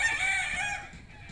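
A gamecock breeding rooster crows once nearby, a loud short strained call that fades out after about a second.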